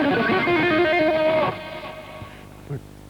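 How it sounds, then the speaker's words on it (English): Electric guitar runs quick pull-offs to open strings, a rapid cascade of notes for about a second and a half, then a fading tail and a short trill near the end, played alone. "What he does is he pulls off to open strings."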